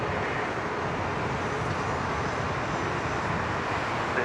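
A Qantas A380 airliner climbs away after a long takeoff roll at Sydney Airport, bound for Los Angeles, heard as a steady broad distant jet roar without speech.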